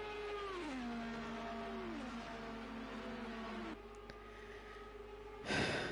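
An IndyCar leaves the pits at Indianapolis in Project Cars 2, its engine note falling in pitch as it shifts, then a steady drone and a sharp rising burst near the end.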